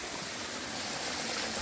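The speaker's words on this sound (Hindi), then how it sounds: "हजारों धाराएं एक साथ चल रही है। और ये झरने के रूप में आगे बहती हुई इस प्रकार यहाँ पर कुंड" Water rushes steadily from many small streams spilling as a waterfall into a pool inside a cave, a continuous, even, moderately loud wash with no voices.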